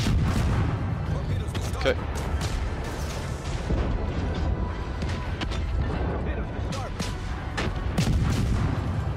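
A friendly warship's naval guns fire in World of Warships, with booming shots and scattered impacts over a constant rumble of engine and sea while someone talks briefly.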